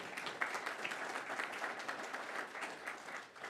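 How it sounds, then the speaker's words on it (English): Applause from a seated audience at a chamber of commerce candidates forum in London, fairly quiet and distant, steady clapping throughout with no voices over it. "So a big round of applause for them."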